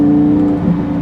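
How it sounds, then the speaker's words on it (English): A 2014 Lamborghini Gallardo LP550-2 V10 engine drones with a steady, throaty exhaust note, held near and loud for about a second with a slight swell in revs. "The V10, of course, sounds incredible."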